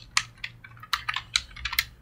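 Fingers typing quickly on a computer keyboard, a close burst of about a dozen crisp key clicks in an uneven rhythm, with no voices.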